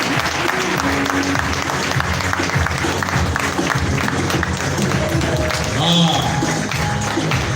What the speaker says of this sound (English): Let's give her a very big round of applause.